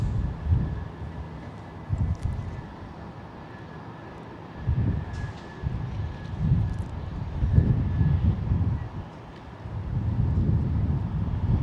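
A jet departing San Jose Airport on the Patriots team flight rumbles at a distance, a low, steady roar that swells and fades slightly, with wind buffeting the microphone throughout.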